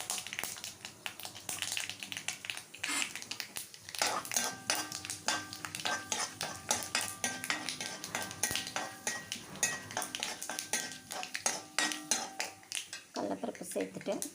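Chana dal tossed into hot oil in a pan for gooseberry rice, with a crackling fry and clinks of a spoon against the pot, while someone speaks over the cooking.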